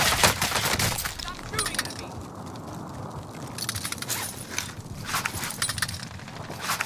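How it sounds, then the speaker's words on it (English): Gunfire in a battle royale video game: scattered rapid shots and bursts crackling through a busy game soundscape, with faint footsteps and some talk underneath. "Stop shooting at me."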